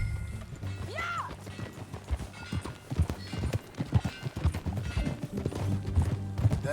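A horse gallops in Red Dead Redemption 2, hooves drumming in a quick, uneven clip-clop close by, with faint rattling tack and ambient noise.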